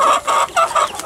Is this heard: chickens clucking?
yes